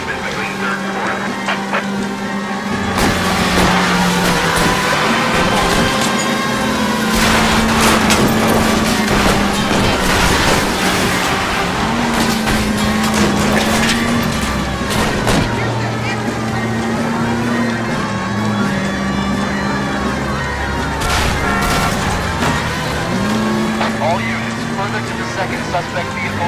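Car chase engines in L.A. Noire, a steady drone of vehicle motors with rising and falling pitch across the whole stretch, mixed with police radio chatter and other game sounds.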